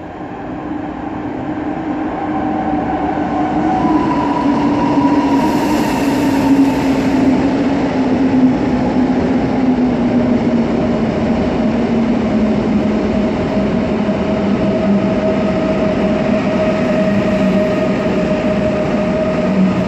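A Polish service train rolls past at length, a loud continuous rumble of wheels on rails with a gliding tonal whine, close by and sustained for the whole stretch without any voices.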